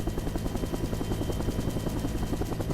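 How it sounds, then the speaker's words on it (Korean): A military helicopter climbs with troops aboard, its rotor making a fast, even, pulsing chop heard from inside the cabin, dense and constant throughout. "헬기 소음 때문에 의사소통도 어렵다"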